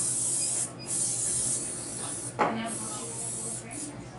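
Cooking spray hisses onto a waffle iron in a home kitchen, short bursts of aerosol on the top and bottom plates, close and moderately loud against quiet room tone.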